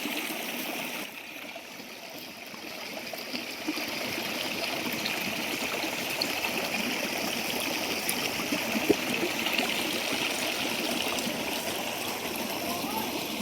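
Water pumped by a motor flows steadily through a channel, a continuous rushing trickle with a faint voice somewhere in the background.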